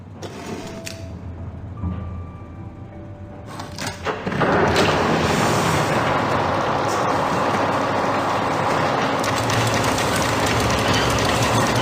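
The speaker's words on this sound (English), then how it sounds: "Looks like I need to put that key in the mechanism to activate it." In the video game Syberia: The World Before, a key-operated mechanism for an engine starts up. A few sparse clicks and clunks lead into a loud, steady mechanical rumble that keeps running without any voice.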